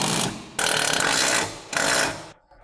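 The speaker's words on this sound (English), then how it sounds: "Use a 17mm socket with a large ratchet to loosen the bolt connecting the shock to the lower control arm." A large ratchet on a 17mm socket loosens the bolt joining the rear shock to the lower control arm on a 2007 Honda CR-V AWD, giving three close bursts of rapid, harsh clicking with brief pauses between them.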